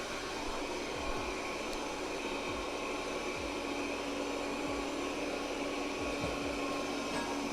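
A Proscenic M9 robot vacuum cleans a rug, giving off a faint, steady whirring hum with soft, regular low thumps as it moves, and no talking.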